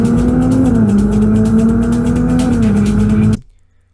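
A Ferrari 296 GTB driving by with a loud, sustained engine note that wavers slightly in pitch, close and continuous before cutting off abruptly near the end.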